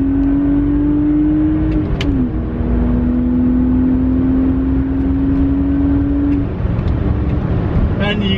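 A BMW 130i engine pulls in second gear on a twisty country road, a steady, close cabin drone holding pitch with a brief shift, over constant road rumble.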